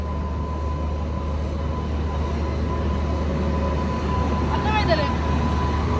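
A steady low rumble of a lone train locomotive running close by without carriages, continuous throughout, with a brief high squeal near the end.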